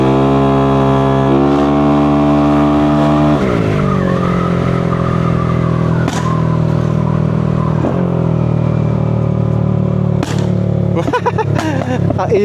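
A tuned car engine on a backfire map holds a loud, droning rev, then drops and climbs again as sharp exhaust pops crack out on closed throttle, with a quick cluster of bangs near the end.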